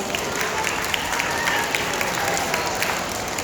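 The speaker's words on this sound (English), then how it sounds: "Let's give them another big round of applause." A school audience gives a big round of applause after a band performance, steady dense clapping filling the room at close range with some crowd noise mixed in.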